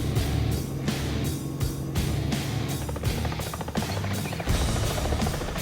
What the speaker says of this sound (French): L'hélico se stabilise peu à peu, les deux patins bien fixes au sol.